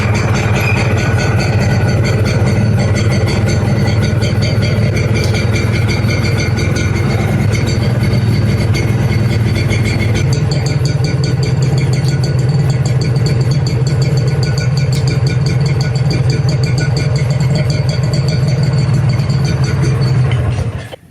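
A 1996 Honda NSR R150 RC Valve two-stroke motorcycle idles steadily up close, a loud, dense, continuous drone that holds unchanged for about twenty seconds before cutting off at the very end.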